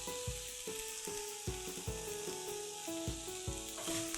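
Catfish fries in a hot pan with chili and kaffir lime leaves, a loud steady sizzle broken by regular sharp scrapes of a spatula stirring, under soft background music with no talking.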